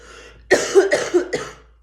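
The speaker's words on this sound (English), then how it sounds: "am so sorry about the cough" A short burst of several harsh coughs close to the mic, three or four in quick succession after a moment of quiet.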